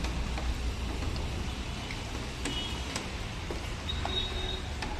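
Heavy rain pours down in a continuous broad hiss, dotted with scattered sharp drip ticks close by, with no one speaking.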